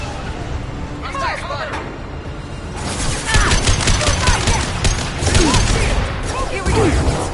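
Rapid bursts of gunfire from a Mass Effect 2 firefight crackle and rattle in uneven volleys, growing louder midway, with combat voices speaking throughout.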